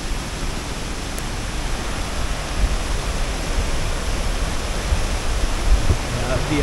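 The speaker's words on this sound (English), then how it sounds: "first I want to show you this waterfall over here." A steady, dense roar of a waterfall by a tall cliff edge on Vancouver Island fills the clip, constant and loud with no pauses.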